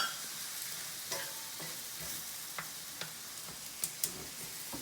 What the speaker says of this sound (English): So as you can see, the tomatoes are cooking nicely